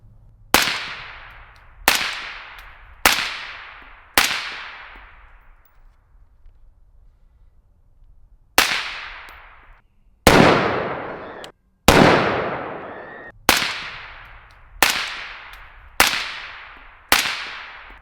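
Suppressed 5.56 rifle fitted with a Black Anchor Tactical Nautilus suppressor and an adjustable gas block, firing about eleven sharp, close shots with a pause midway, each crack trailing into a short decay.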